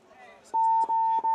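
Game buzzer on a playing field sounds a single steady electronic tone lasting nearly a second, loud and clear, with brief voices around it.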